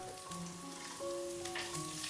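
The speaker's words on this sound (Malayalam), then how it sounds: "എന്നിട്ട് വളരെ ചെറിയൊരു സവാള കൊത്തി നുറുക്കിയത് ചേർത്ത് കൊടുക്കാം" Finely chopped onion sizzles in hot oil for Kerala-style upma, making a continuous, close, even frying hiss with light crackles and no voices.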